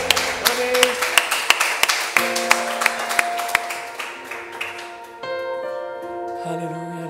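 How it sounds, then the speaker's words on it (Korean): A church congregation at a Sunday worship service claps in praise, sharp rhythmic claps for about five seconds, then they fade into sustained organ or keyboard tones. "우리 만왕의 왕께 감사와 영광의 박수 올려드립니다"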